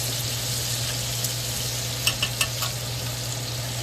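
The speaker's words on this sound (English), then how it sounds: "Let's get some more butter on these little bad boys. Baste them up." Butter-basted USDA Prime ribeye cap steaks sizzle steadily in a pan, a continuous bright fry hiss with a low hum beneath and a few sharp spattering pops near the end; no one speaks.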